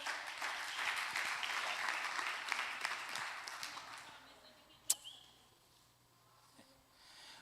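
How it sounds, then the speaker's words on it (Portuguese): Church congregation clapping for the Lord, a dense sustained applause for about four seconds that fades out, followed by a sharp isolated clap or knock and quieter room sounds. "Aplauda ao Senhor."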